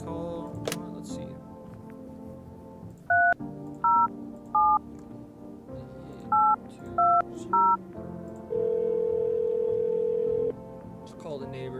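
Telephone dialing in a video game: short, crisp dual-tone key beeps come in two quick clusters, then a steady held tone sounds for about two seconds over a low background hum.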